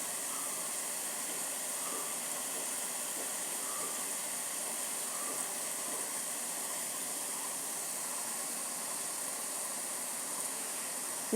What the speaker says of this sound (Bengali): এইভাবে দেওয়া হয়ে গেলে 30 থেকে চল্লিশ সেকেন্ড ভেজে নেব ক্রিপচি ক্রিপচি করে ভেজে নেব